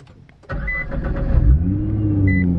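An 800 hp Nissan GT-R with an Armytrix valved straight-pipe exhaust starts up with a sudden loud bark, then settles into a deep, rumbling idle close by.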